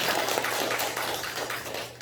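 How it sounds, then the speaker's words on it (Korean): A church congregation applauding during a Sunday worship service, a steady dense patter of clapping that holds even and full for about two seconds, easing slightly at the end. "우리 박수로 한번 격려할까요?"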